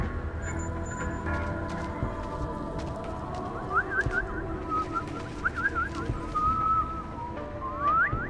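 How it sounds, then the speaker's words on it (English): In the stealth video game Deus Ex: Mankind Divided, a faint melodic whistling tune plays over low ambient in-game sound, with rising and falling whistled phrases in the second half of the clip and no talk. "What the hell's the whistling?"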